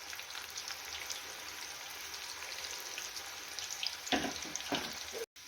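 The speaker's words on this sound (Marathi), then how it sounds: "तर अशा प्रकारे आपण भजी तेलामध्ये सोडलेली आहे तर एक दोन मिनिट आपण खालची बाजू फ्राय करून घेऊया" Crab-shaped bhaji fritters of batter frying in hot oil, a steady crackling sizzle with a brief burst of louder bubbling near the end, close and without talk.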